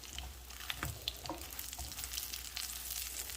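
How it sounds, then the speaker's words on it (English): Pork chops sizzle steadily in a pan while being flipped, a close, dense frying hiss broken by a few soft taps and scrapes of the turner, with no speech. "make sure that we flip these"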